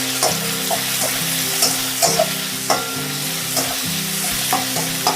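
Onion sautéed in oil over a high flame: a loud, dense sizzle broken by rhythmic scrapes and knocks of a spoon against the pan, repeating about every half second to second. No voices.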